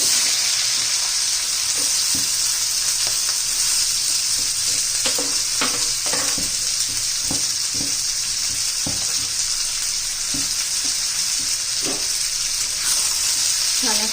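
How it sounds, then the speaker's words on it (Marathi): Cumin and mustard seeds splutter in hot oil while being tempered for a moong dal and onion dish, a close, steady sizzle scattered with crisp pops and occasional stirring clicks. "हे बा जिरी मोऱ्याचा तडतडले बघा कसा आवाज येतोय आहे"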